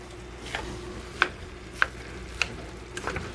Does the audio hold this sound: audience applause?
no